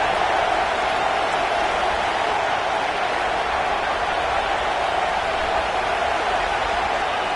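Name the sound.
football stadium crowd cheering on the defense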